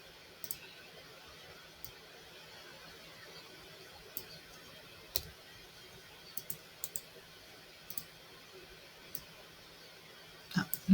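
Computer mouse clicking at a desk, a dozen or so sharp faint isolated clicks spaced irregularly over a quiet background, with a quick cluster at the end.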